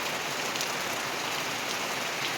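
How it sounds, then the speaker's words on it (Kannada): Heavy rain pours down in a dense, unbroken hiss of drops striking surfaces, loud and even throughout with no voices. "ಹೊರಡುವಾಗ ಮಳೆ ಬಂತು ಜೋರು"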